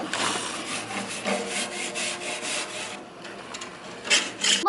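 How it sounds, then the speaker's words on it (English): Grill scraper rubbing old food off a barbecue grill, repeated harsh back-and-forth scraping strokes, close and fairly loud, with no talking. "We have to scrape off all of this old food."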